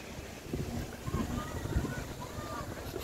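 Wind buffets the microphone with low, gusty rumbling, and faint voices and distant activity sit underneath.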